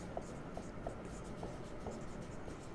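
Chalk or marker scratching across a classroom board in short strokes at a steady pace, faint and close, with a low room hum underneath.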